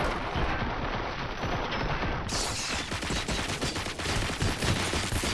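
Gunfire in RoboCop: Rogue City, a dense sustained fusillade of overlapping shots and impacts at fairly close range, continuing throughout with no pauses.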